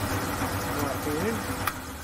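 A Gingery milling machine transmission runs in first gear, high range, as a steady mid-pitched mechanical hum and whir, with one brief click near the end and someone talking over it.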